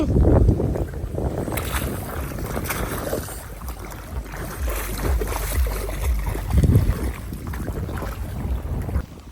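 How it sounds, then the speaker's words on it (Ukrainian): Gusty wind buffets the microphone with heavy low rumbling and rustling bursts, rising and falling throughout, with a faint sense of open water nearby. "У нас тут вітер такий, вам буде там задувати, напевно."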